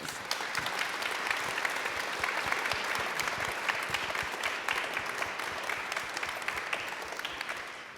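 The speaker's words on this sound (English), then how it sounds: "giving them a big, warm Manchester round of applause" A warm round of applause from a Manchester audience at an education event, dense and sustained clapping from a large crowd, loud and even throughout, without speech.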